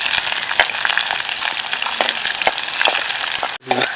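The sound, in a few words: green chillies frying and being stirred in a pan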